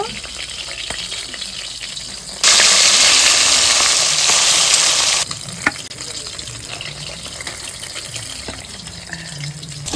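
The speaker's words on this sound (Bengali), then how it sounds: "এখন আমি আলুটা ভেজে নিচ্ছি" Potatoes fry in hot oil in a pan during home cooking. A loud, dense sizzle swells for about three seconds, then drops back to quieter kitchen clatter and low hiss.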